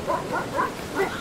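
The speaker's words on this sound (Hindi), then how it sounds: "उसे अपने पीछे भागते हुए कुत्तों की आवाज सुनाई दी।" Dogs bark several times in quick succession, somewhat distant and moderately loud.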